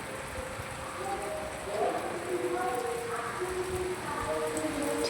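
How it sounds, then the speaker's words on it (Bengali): Steady rain patters on leaves outdoors as a continuous, fairly loud hiss with scattered drip sounds throughout, no voices. "কত সুন্দর জলের বিন্দু পাতার মধ্যে বুঝতে পারছো বিন্দু বিন্দু বৃষ্টির কণা"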